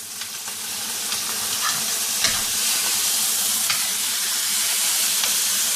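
A steak frying in a pan gives off a steady, close sizzle with crackling, punctuated by a few brief pops and scraping stirs, with no talking.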